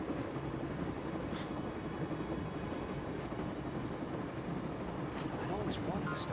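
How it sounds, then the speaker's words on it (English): A train runs steadily in the Broken Sword video game, a continuous low rumble and rattle of rolling carriages with faint wind-like hiss throughout. "I always wanted to stop the train"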